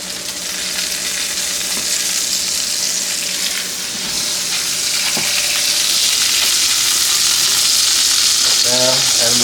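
Smash burgers frying on a hot cooking surface, a loud continuous hiss and crackle of sizzling fat that stays steady and close throughout.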